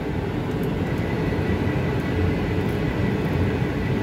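Steady, loud jet airplane engine roar in the cabin during a landing approach at Auckland airport, a continuous broadband rumble holding even throughout with no talk.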